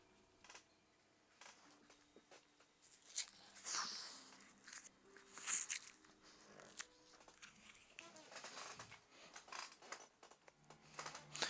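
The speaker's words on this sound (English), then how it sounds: "that is my dog who is trying to chew on a piece of cardboard right now" A dog chews and tears at a piece of cardboard indoors, with soft irregular crunching and scraping bursts heard close but quiet, under faint background sounds and a bit of speech.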